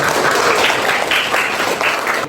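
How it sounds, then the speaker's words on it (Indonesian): Loud, steady applause from an audience of university students at an academic lecture on disaster emergencies, a short continuous burst of clapping lasting a couple of seconds. "Ya, tepuk tangan."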